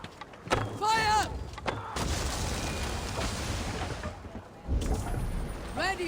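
Arrow volleys released in a battle in the video game Assassin's Creed Valhalla, heard as a broad rushing whoosh with low booming hits, under shouted commands and battle noise.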